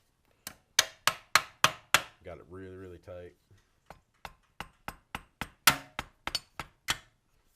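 Sharp, repeated hammer blows driving wooden blocks into place on a Briggs and Stratton engine to stop the flywheel turning, about fifteen strikes in uneven bursts, with a brief stretch of someone talking in the middle.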